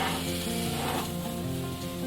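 Besan (gram flour) roasting in a pan over low to medium-low heat gives a steady, even sizzle and soft scraping stir, continuous and close with no voices.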